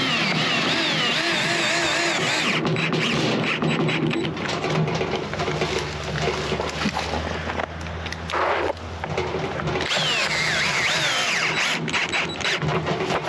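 A power drill driving screws through a plastic mailbox post into wood behind it: a whirring motor buzz in several sustained bursts, with brief pauses and changes in pitch as the screws are driven and the drill stops.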